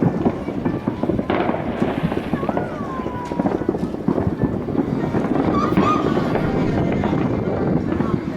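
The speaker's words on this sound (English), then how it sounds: "there were fireworks." July 4th fireworks go off near Staten Island, New York, heard from a boat as scattered, distant pops and crackles under steady wind rumble and water noise.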